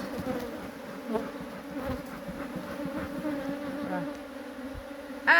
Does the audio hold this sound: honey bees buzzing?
yes